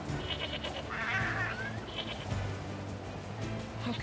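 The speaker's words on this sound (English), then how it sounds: "Alright, let's get some sheep." Sheep bleat in the video game NieR Replicant Ver1.22, a couple of short wavering calls at moderate distance over a steady ambient game background, with no talking.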